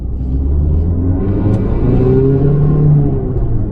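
A 1989 Toyota Celica GTS ST162 engine, close and loud, with a steady low rumble that rises and falls as it pulls and revs, its exhaust sounding rough.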